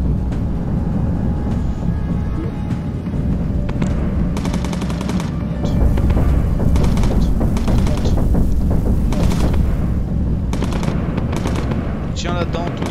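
Bomber turret machine guns rattle in long, loud bursts during a World War II bomber mission in the game Bomber Crew, layered with engine drone and distant flak bursts; a voice speaks briefly between volleys.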